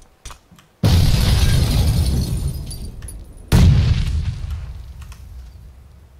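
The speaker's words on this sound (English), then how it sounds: "That was a grenade." Two loud grenade blasts in a video game shooter, each a sudden sharp crack with shattering debris and a long rumbling decay, separated by a few seconds.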